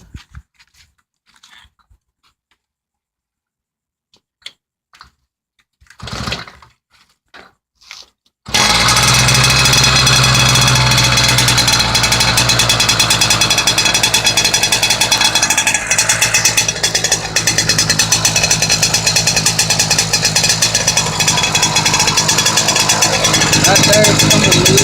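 An engine fitted with a different exhaust pipe turns over and catches at about eight seconds, then idles loud and steady while warming up. Quiet handling noises and a brief voice come before the start.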